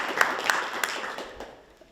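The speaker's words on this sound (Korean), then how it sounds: "큰 박수 부탁드립니다." Sparse applause at a panel discussion on platform labour in Busan, a few scattered claps from a small audience that quickly fade into quiet.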